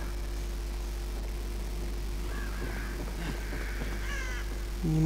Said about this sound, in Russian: Я слышу. Птиц.